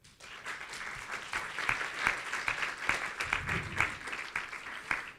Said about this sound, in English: So big applause for that.